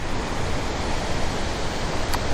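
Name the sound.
water rushing over a creek spillway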